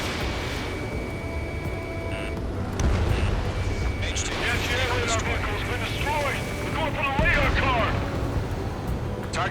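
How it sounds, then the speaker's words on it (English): Explosions and combat noise from the video game Ace Combat 7 as an anti-air radar vehicle is destroyed: booming blasts and roaring jet engines, with radio chatter voices layered over the action. "The anti-air radar vehicle has been destroyed!"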